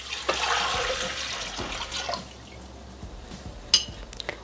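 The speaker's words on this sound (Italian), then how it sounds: "Iniziamo la ricetta mettendo all'interno del boccale l'acqua." Water poured into a Thermomix jug to start an infusion, a close, gurgling splash for about two seconds that fades into quieter drips and a few small clinks.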